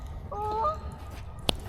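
A goose honks close by with a few harmonic calls, then a sharp louder honk near the end, outdoors at a fishing spot toward dusk, with steady low background rumble and no talking.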